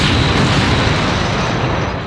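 A big movie explosion from Critters booms as a loud, dense roar that holds steady across the whole moment and only slightly tails off at the end.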